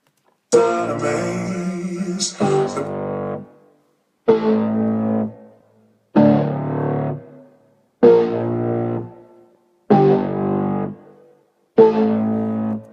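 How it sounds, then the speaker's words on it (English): A heavily distorted Spire synth bass plays in repeated short bursts with brief gaps, loud and gritty, building tension in a steady rhythm. "the distorted bass creates a little bit more tension"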